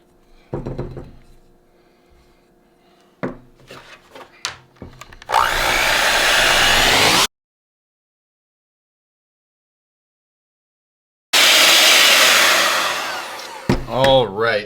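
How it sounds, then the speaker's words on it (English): An electric mixer beats powdered sugar into a chocolate filling in two loud, steady whirring bursts separated by a silent pause, with a few clinks and knocks before and after. "Give this a mix, and then I'll move over to my electric mixer."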